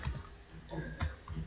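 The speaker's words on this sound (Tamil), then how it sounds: "ஸோ இதில் நான் நம்பர் ஒன்று டைப் பண்ணுறேன்" Computer keyboard typing during entry into an MS Excel data form, with soft, sparse key clicks in a few small clusters, close and quiet, with no talking.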